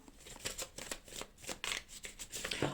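Tarot cards are shuffled and drawn from a deck, producing a run of quiet, close papery flicks and snaps in an irregular rhythm.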